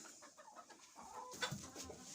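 Hens in a henhouse on a wet day, clucking and chattering softly at a distance, with a few louder calls near the end.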